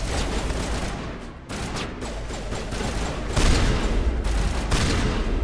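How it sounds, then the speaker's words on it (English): Sustained gunfire in Mass Effect 1 Legendary Edition, with dense overlapping shots and bursts that run steadily throughout, loud and close, with no voices over it. "I know, we're getting shot at."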